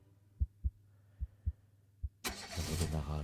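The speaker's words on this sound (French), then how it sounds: "Il redémarra alors sa voiture et retourna chez lui au plus vite." A car engine cranks and catches with a sudden loud roar that runs steadily to the end, preceded by five soft, evenly spaced low thumps like a heartbeat in an otherwise quiet scene.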